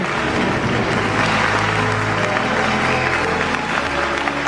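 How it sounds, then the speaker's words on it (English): A whole room bursts into thunderous applause, dense continuous clapping with some cheering mixed in, loud and sustained from start to finish over a low tonal bed. "Within seconds, the whole room burst into thunderous applause, everyone cheering for Bella and her mother."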